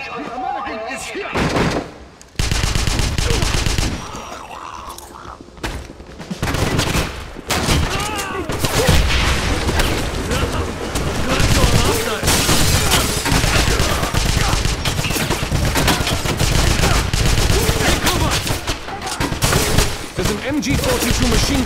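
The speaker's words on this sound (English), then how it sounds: "MG-42 machine gun blocking our path." An MG-42 machine gun fires in the video game Wolfenstein on a train station level, loud bursts of rapid gunfire and heavy impacts while soldiers shout and talk throughout.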